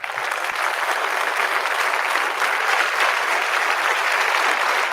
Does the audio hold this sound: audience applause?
yes